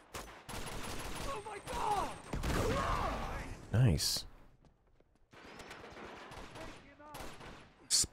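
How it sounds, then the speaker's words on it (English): Bursts of gunfire and a grenade blast erupt in Uncharted 2 game combat, loud volleys separated by short quiet gaps, with a player talking excitedly over them. "Explosions."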